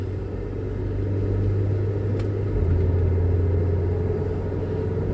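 A Ford Transit van with missing third and fourth gears holds its engine at about 3,000 RPM, a steady, loud droning rumble with a constant low hum that shifts slightly in pitch midway.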